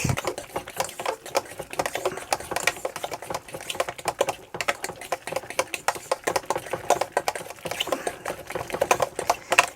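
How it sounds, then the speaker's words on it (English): Mashed potatoes being whisked hard in a warm pot, a fast rhythmic metallic clatter and scraping that keeps going steadily and close, with no talking over it. "you need some really good muscle power here. And whisk."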